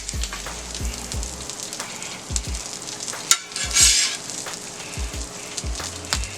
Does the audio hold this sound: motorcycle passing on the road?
no